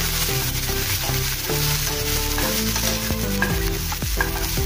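Onions and green chillies fry in a pan with cumin and mustard seeds while being stirred, a loud continuous sizzle with scraping stirring strokes over it, close and steady.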